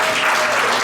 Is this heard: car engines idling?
no